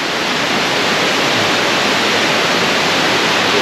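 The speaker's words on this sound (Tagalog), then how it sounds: "Oy, ang lakas ng agos ng tubig." A powerful waterfall pours with a strong current, making a loud, unbroken rushing roar that holds steady the whole time, with no voices over it.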